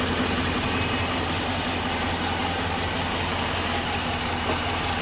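The 5.7 liter V8 of a 2015 RAM 1500 SLT Big Horn crew cab idles steadily with a constant low rumble and hiss, close and unbroken throughout, with no talking.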